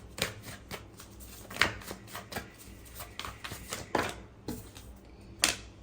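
Tarot cards shuffled by hand for a reading, a quick run of crisp riffling snaps and soft papery slaps at close range, with no voices.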